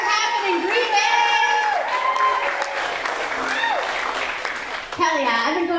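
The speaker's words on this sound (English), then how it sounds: "Let's clap it up for Tom, Pierre, Tarl" A comedy show crowd applauds steadily while several voices cheer and call out over the clapping throughout.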